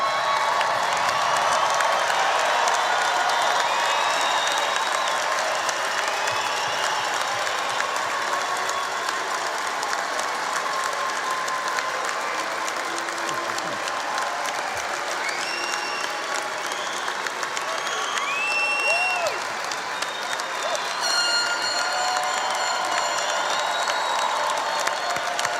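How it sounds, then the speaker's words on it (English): Sustained loud applause from a large commencement crowd, steady clapping throughout with occasional scattered cheers and whistles. "give our graduates, the class of 2019, a huge round of applause"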